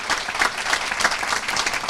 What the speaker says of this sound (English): I want you all to give yourselves a big round of applause for your commitment.